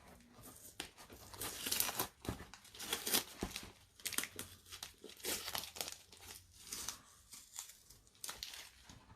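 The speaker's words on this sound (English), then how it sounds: "Unwrapping the gift here." A gift being unwrapped up close, paper crinkling and tearing in irregular bursts of rustling and ripping, with no voices.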